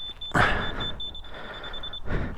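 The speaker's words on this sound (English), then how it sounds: "There's my alarm going." A motorcycle's alarm sounds as a steady, high-pitched electronic beeping that repeats quickly and evenly for about two seconds, heard up close outdoors in the countryside against wind and rustling.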